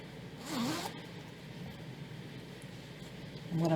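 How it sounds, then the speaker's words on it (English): A zipper on a small handmade fabric bag is pulled shut in one quick, close rasp, followed by quiet handling noise. "Zip it up."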